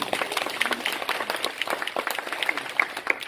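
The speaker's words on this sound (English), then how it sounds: "How about a round of applause for everybody?" A round of applause at a Chinese community forum in Richmond, Virginia: a small crowd's scattered, overlapping claps, fairly soft and mid-distance, sustained across the moment.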